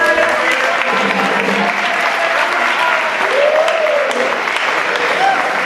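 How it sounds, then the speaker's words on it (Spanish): Loud, sustained applause from a Carnival audience fills the space after a chirigota performance, steady clapping throughout with a voice briefly rising over it. "Un aplauso."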